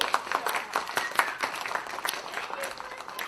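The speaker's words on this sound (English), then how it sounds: "Let's give her a round of applause." An audience at a live college speaker event claps for a woman who has just shared her story, a modest, fairly quiet patter of hands with a voice or two talking over it.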